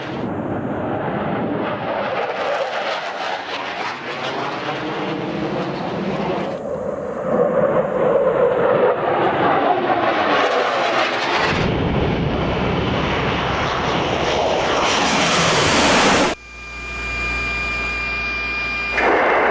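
F-14A Tomcat jet fighters roar through desert airspace in a loud, sweeping rush that swells and fades over several passes, then cuts abruptly into a thinner, steady engine drone.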